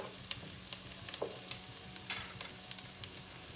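Onions fry over medium heat in a pan, a faint, steady crackle and sizzle with a few small pops across a brief stretch.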